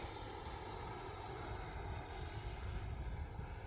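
E-flite F-16 Falcon 80mm RC electric ducted-fan jet flying overhead, a steady whooshing whine holding fairly even at moderate distance with no talking.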